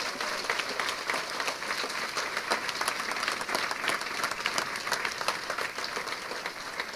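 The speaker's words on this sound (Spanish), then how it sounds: "¿Puedes darle un aplauso a Jesucristo?" Church congregation giving sustained applause, a dense, lively roar of many hands clapping at a steady level with crisp individual claps poking through.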